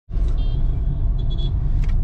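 Car driving along a Delhi road near India Gate, a steady low engine and tyre rumble from inside the vehicle with faint higher whines, continuous and fairly loud, no talk.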